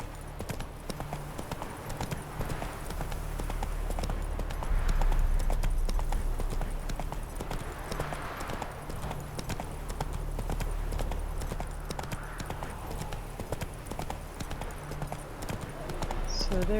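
Galloping horse hooves in The Witcher 3 game world, a fast steady clip-clop rhythm that carries on throughout, with occasional voices and a faint ambient bed behind it.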